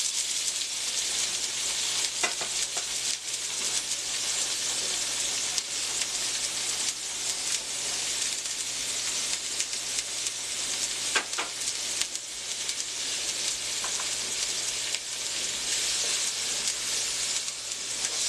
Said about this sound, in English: I got to saute the onions and the garlic